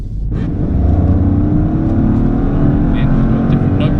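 2020 Vauxhall Corsa engine pulling hard in sports mode, a loud steady drone rising in pitch from inside the cabin, with faint knocks and a voice briefly in the background.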